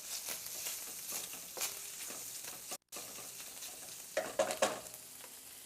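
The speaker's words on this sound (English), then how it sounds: "our cranberries are simmering wonderfully, and our apples are starting to caramelize" Cranberries simmering and apples caramelizing in a pan, a steady quiet sizzle with scattered stirring clicks, a brief dropout midway, and a few louder scrapes near the end.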